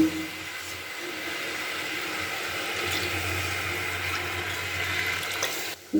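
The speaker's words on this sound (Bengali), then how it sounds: "এবার আমি দুধটাকে ওর মধ্যে ঢেলে দেবো" Milk is poured into a rice flour mixture for nolen gurer sandesh, a steady, smooth liquid flow that holds evenly for several seconds before cutting off, close and alone without speech.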